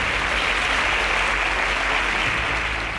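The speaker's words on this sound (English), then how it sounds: "Can we give them a round of applause?" Loud, dense applause from a competition-show audience greeting five contestants, a steady wash of clapping that holds for about three seconds and eases slightly at the end.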